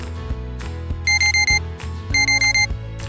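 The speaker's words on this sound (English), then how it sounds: "Our alarms go off and we're faced with our first decision of the day" Electronic alarm clock going off in two bursts of rapid, shrill repeated beeps, loud and close over a steady musical background.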